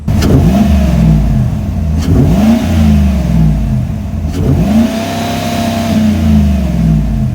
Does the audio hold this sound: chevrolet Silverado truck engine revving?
yes